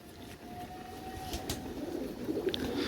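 Pigeons being fed seeds coo softly and intermittently, faint against a quiet background rumble.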